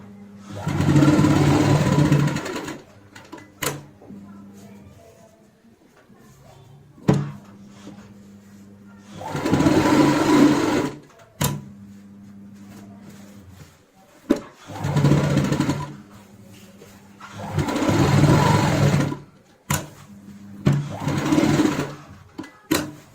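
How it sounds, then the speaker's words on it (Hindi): Sewing machine stitching piping onto a designer cushion cover, running in several loud bursts of a few seconds each, separated by quieter pauses with brief clicks and handling. "यहाँ पे पाइपिंग के साथ साथ ही हमें यहाँ पे सिलाई लगानी है"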